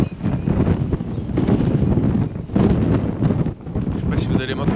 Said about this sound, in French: Il fait froid, il y a du vent.